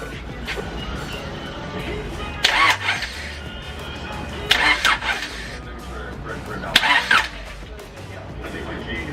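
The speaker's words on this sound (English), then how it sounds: "I'm about to fire this car over." A turbocharged B18C Type R engine in an EJ6 car cranks several times and then fires, giving repeated bursts of starter and engine noise while a voice talks over it.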